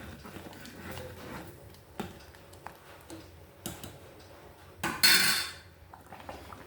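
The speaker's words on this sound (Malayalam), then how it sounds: "ഉപ്പിട്ടിട്ട് നല്ലോണം ഇളക്കി കൊടുക്കാം കേട്ടോ." A pot of salted Onam sambar being stirred: irregular metallic clinks and knocks of a spoon against the vessel, with a louder clatter and scrape near the end, close and without talk.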